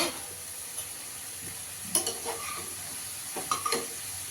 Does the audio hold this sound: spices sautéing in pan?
yes